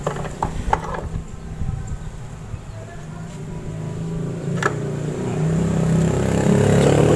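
The rear pulley of a Honda Vario 125 scooter turns after a repair for a grinding noise, with scattered mechanical clicks and ticks and a whirring hum that grows steadily louder toward the end.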